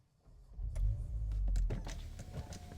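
Power windows on an Audi S3 Sportback whirring open inside the car, a steady motor hum starting after a quiet moment and running for a couple of seconds, with no talking.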